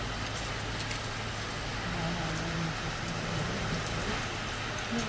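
Rain begins falling outdoors near Kumbhidhar Waterfall in Boudh, a steady close hiss of drops on surfaces with a faint low rumble underneath and no clear talk.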